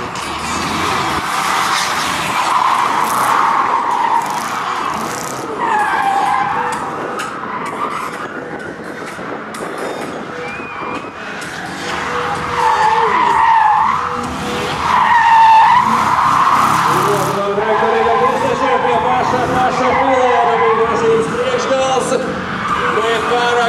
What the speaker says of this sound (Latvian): Dziļas sākslīdes, bet tā arī labi noturēt līdz finišam